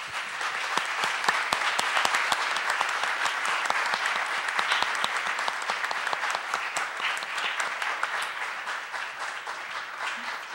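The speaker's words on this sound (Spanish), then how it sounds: "Y pido un aplauso también para él" Sustained, dense applause from the audience at a master class with filmmaker Peter Greenaway, many hands clapping steadily at moderate distance with a faint voice near the end.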